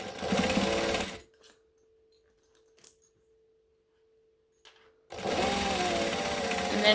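Sewing machine stitching fabric for a Colette bowler bag, in two sustained loud bursts at the start and end with a near-silent pause between while the fabric is repositioned.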